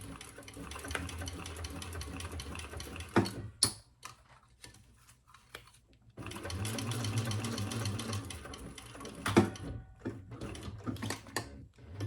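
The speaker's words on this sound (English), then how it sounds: "sew that together at the seam allowance in the pattern" A sewing machine stitches the seam of a Busta Bag in two steady motor runs, a rapid dense whir that pauses in the middle with a few clicks before starting again, close and fairly loud.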